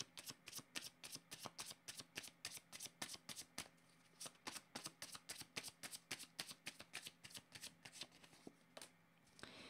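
Tarot cards are shuffled in a long run of quick riffling bursts, close and fairly quiet, with a brief pause near the middle before the shuffling resumes.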